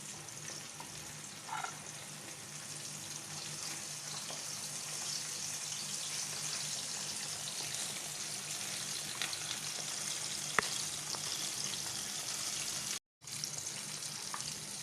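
Sea bream sizzles in a pan of oil, a steady soft crackling hiss with occasional pops, fairly quiet and continuous, briefly cutting out near the end.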